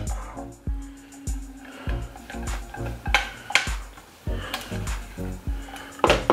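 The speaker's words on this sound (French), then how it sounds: "Je vais enlever le tout de la casserole." Repeated scraping and knocking of a utensil against a metal saucepan while custard is scraped out, irregular strokes with sharp clinks, close and without talk.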